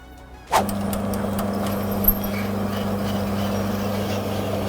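A 12.5 mm drill bit bores through stainless steel in a running lathe, a sudden start followed by a steady, loud mechanical hum and whir that continues unbroken, with one small knock partway through.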